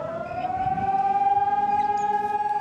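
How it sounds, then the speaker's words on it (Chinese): A civil defense air raid siren sounds during a citywide drill, one sustained rising wail that holds steady and loud throughout, alone with no voices. "警报声响起"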